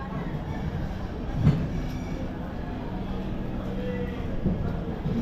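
The Sealdah–Puri Duronto Express rolls along after leaving Sealdah station, a continuous low rumble of the carriage in motion with faint rail knocks, and a voice talking over it.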